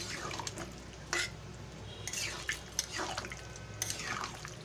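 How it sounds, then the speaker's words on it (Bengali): Stirring papaya and potato curry in a pan after water is added, soft scraping and sloshing strokes close by, with a few splashy bursts over a quiet kitchen background. "ভালো করে মিশিয়ে নেব নাড়িয়ে নেব ভালো করে"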